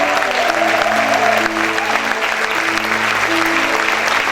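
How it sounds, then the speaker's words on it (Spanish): A church congregation claps loudly and steadily for the Lord in a dense, sustained wash of applause, with some tonal music or voices running underneath. "Aplaude fuerte al Señor."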